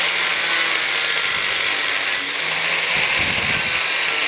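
An angle grinder with a thin one-millimetre disc cuts through a metal pipe, a loud continuous high whining grind that holds steady throughout, close up and with no talk.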